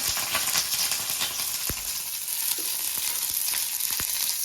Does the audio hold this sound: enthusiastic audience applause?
no